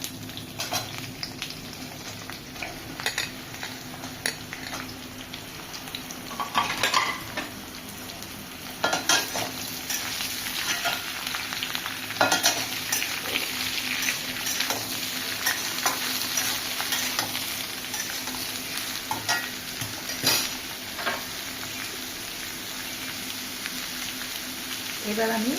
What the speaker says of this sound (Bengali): এবার আমি চাল কুমড়োগুলো দিয়ে দিচ্ছি